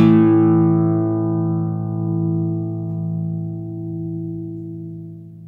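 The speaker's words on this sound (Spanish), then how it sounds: "Cuando ya le estoy dando un poquito de caña, pero sin apretar, que la guitarra ya suena." A single plucked note on an Antonio de Toledo Especial Santos flamenco guitar rings out alone and close, decaying slowly over about five seconds with a long, steady sustain.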